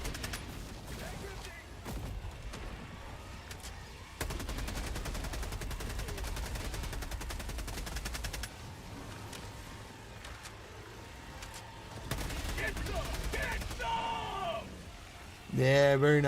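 Bursts of rapid video game gunfire alternate with quieter stretches, the rattling shots coming in dense runs of several seconds, with a sharp louder burst near the end.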